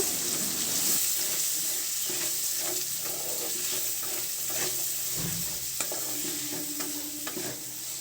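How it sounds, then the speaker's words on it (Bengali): Three large chopped onions fry in hot oil for a dhaba-style egg masala, stirred steadily in the pan; a continuous close sizzle runs throughout with scraping stirs, and no one speaks. "এখন আমি নাড়াচাড়া করে পেঁয়াজটা একটু ভাজা করে নেব।"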